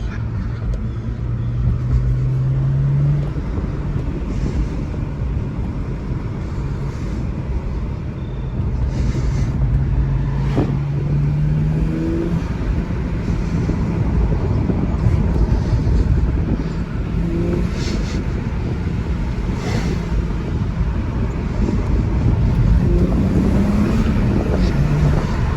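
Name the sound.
BMW 335xi twin turbo sedan engine while driving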